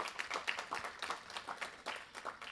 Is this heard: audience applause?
yes